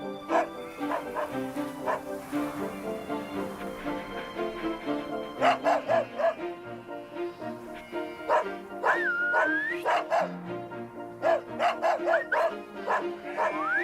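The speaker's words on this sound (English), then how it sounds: "Abel has returned." A dog barks and yips repeatedly at close range, mixed with whimpers and rising whines, in irregular bursts over a soft tonal background.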